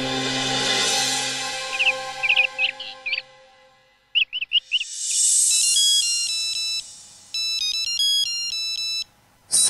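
A phone ringtone plays a loud electronic melody of bright, chirpy tones in quick repeated phrases, with short gaps between them. It sounds close and clear, with no talking.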